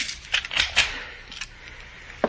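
A door being locked with a set of keys as a radio drama sound effect: a few light metallic clicks and rattles spread across the moment, fairly close, with a final sharp click at the end and no talking.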